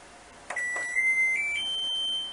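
An Electrolux Intuitive 9 kg washer-dryer beeps as it is switched on: a couple of short soft clicks, then a clear sustained electronic tone that steps up in pitch, close and fairly quiet in an otherwise still room.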